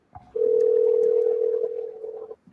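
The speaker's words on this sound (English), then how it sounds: "Call Grim. Calling Grim the Reaper" A steady telephone dial tone hums for about two seconds as a call is placed from a phone, loud and close, preceded by a brief click and with no talk over it.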